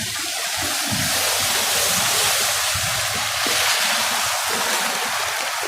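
High water flows fast after continuous rain, a loud, unbroken hiss and rumble of current heard up close.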